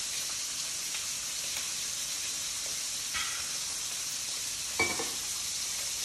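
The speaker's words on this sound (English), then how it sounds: "you can hear the lovely sizzle" Pad Thai ingredients fry in a pan, giving a soft steady hiss with a few brief crackles and a small clatter near the end, quiet and without talk.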